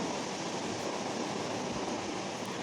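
Quiet, even rushing wash of water in the block-building video game Lokicraft, a steady noise-like hiss with no breaks.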